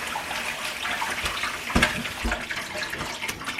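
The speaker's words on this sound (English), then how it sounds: "I am gonna go ahead and just rinse my apples real quick." Tap water runs steadily over apples being rinsed in a kitchen sink, a close, continuous splashing stream broken by a few soft knocks, with no voices.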